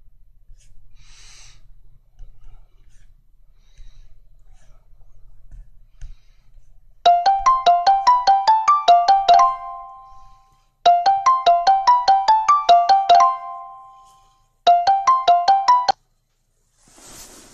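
An electronic ringback tone plays while a Skype call is being placed, sounding in three bursts of rapid, repeating melodic chirps separated by short pauses, clear and close with no talk over it.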